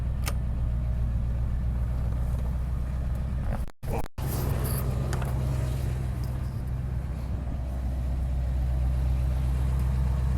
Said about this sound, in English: Exhaust is not that loud.